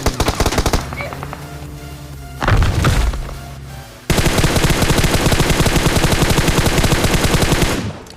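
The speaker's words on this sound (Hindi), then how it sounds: "इतने में राइट साइड से गोलियां चल रही होती है" Automatic gunfire rattles in a mobile battle-royale shooter match, with rapid bursts, a pause with a muffled thump, and then a long continuous volley close and loud.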